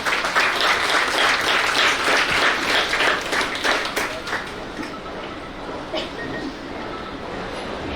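Audience applause at a students' felicitation ceremony, a dense, steady wash of many hands clapping that carries on for several seconds before thinning slightly toward the end.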